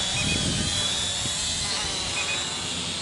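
A Holystone HS120D GPS quadcopter drone hovers and comes in to land, its steady high-pitched rotor whine filling the scene continuously and fairly close, with no one speaking.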